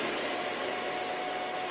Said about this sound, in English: I have the vacuum plugged into one of these RF remote powered splitters.